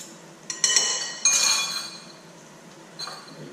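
A plate is set down and handled on a kitchen counter while plating a chicken bacon ranch salad, giving a few sharp ceramic clinks and knocks close by, then quieter handling.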